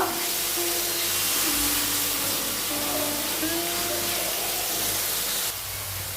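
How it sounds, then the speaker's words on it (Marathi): Red chili powder and spices sautéing in hot oil give off a steady loud sizzle and hiss that runs throughout, easing slightly near the end, with no talk over it. "लाल तिखट घालूया सर्व मसाले व्यवस्थित आपण परतून घेणार आहोत"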